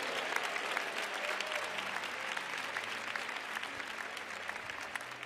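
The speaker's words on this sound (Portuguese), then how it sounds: "Quem recebe a paz do Senhor Jesus, aplauda Ele com bastante alegria." A church congregation claps joyfully together, a continuous wash of many hands at a fairly quiet, even level without any voices.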